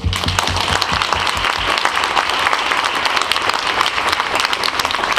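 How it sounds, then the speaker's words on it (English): Applause fills the hall after a sponsor's speech honoring an organization, dense even clapping from a sizeable audience sustained for about five seconds. "So a round of applause."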